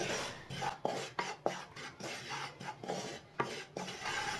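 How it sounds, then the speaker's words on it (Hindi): Flour roasting in a pan while a spoon keeps it moving, giving close scraping strokes against the pan with sharp knocks every half second or so, no one talking. "ऐसे ही इसे भूनना है चम्मच चलाते हुए।"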